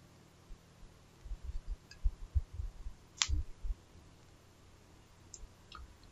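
Soft computer mouse clicks tap quietly in EAGLE circuit design software, a scattered cluster of small clicks with one sharper tick amid near silence.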